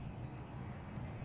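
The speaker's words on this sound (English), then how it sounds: "Landing gear." Spaceship landing gear deploying in the game Elite Dangerous: a steady, faint, low engine-like rumble and hum, even throughout the short moment, with no talk over it.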